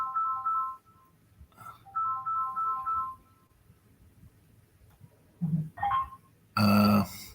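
A phone's ringtone plays as repeated short melodic beeping phrases in a quiet room, with a couple of brief pauses, then other sounds near the end.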